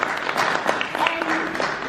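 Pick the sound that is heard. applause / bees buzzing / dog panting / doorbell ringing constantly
applause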